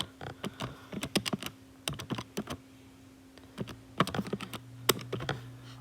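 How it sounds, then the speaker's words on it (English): Buttons on a calculator being tapped to enter numbers, crisp close clicks in quick uneven bursts with a short pause midway, heard alone in a quiet room. "If we type that into the calculator"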